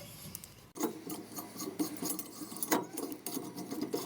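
A thread tap is backed out of a freshly drilled hole for a grease fitting, a faint rasping, scraping metal sound in short irregular strokes after an initial pause.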